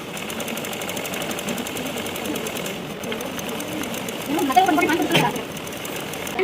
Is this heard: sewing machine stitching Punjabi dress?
yes